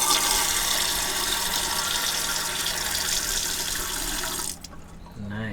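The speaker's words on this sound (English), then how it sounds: "See if the water pump will turn on." Water gushes from a van conversion's sink tap, fed by a water pump, in a loud steady stream for about four and a half seconds before cutting off, leaving a quieter hum.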